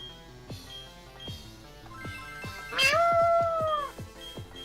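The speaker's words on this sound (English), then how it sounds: "just meowing at a door" A house cat meows repeatedly at a door, several close, drawn-out calls, one loud and wavering, over faint background music and game sounds.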